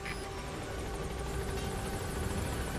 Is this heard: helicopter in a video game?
yes